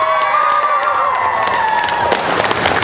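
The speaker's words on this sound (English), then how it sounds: "please give a warm round of applause to Mr." A crowd in Telford cheers and applauds a welcomed guest, a loud dense wash of clapping and shouts with whistling tones, steady throughout and close.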